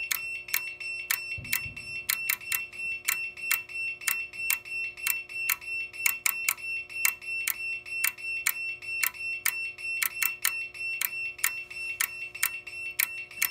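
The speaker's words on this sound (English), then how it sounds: "sync module clicking away in the back." Rapid, sharp electronic clicks from a fire alarm sync module in an uneven rhythm repeat steadily over a persistent high alarm tone, with a brief low thump near the start.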